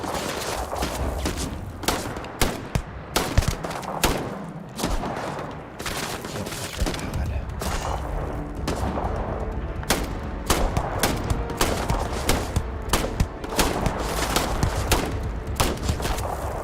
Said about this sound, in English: who is shooting at me over here?